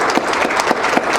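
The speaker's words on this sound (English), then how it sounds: "give him a round of applause too." Loud, close applause from a room of people at a beekeeping club meeting, brisk overlapping hand claps with a few distinct louder claps standing out.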